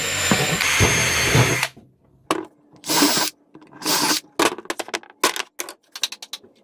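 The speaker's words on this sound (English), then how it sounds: "I'm going to take a 5 30-seconds drill bit to make my hole." A power drill whines steadily for a couple of seconds, drilling a hole with a 5/32-inch bit in a Honda Civic Si sun visor repair, then stops, followed by a series of short scraping and clattering bursts.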